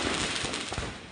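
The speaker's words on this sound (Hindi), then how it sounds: "दुकान में अचानक आग लगने से सारे पटाखे एक के बाद एक फटने लगे।" Firecrackers burst one after another in a fire at an illegal firecracker shop in Sultan Bazaar, Hyderabad. A dense, loud, continuous rattle of overlapping bangs and crackles fills the whole moment.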